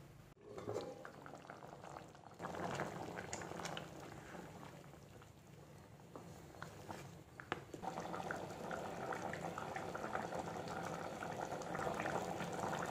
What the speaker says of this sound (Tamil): இது ஒரு கொதி வந்தால் போதும்,